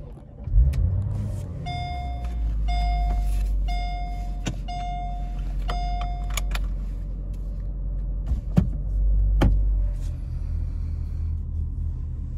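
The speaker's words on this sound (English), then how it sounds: "Thought we'd do a driving video of my 2004 Mercedes-Benz SL55. This is the one with supercharged V8." A 2004 Mercedes-Benz SL55 with a supercharged V8, 20,000 miles on it, rumbling low and steady as it drives, with a few intermittent electronic chimes and clicks from inside the cabin.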